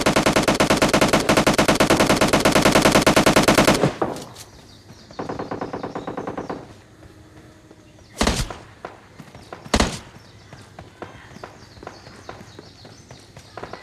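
Rapid SMG gunfire in a mobile battle-royale shooter: a loud, sustained automatic burst for about four seconds, a shorter burst after, then two sharp isolated shots amid footsteps and game ambience.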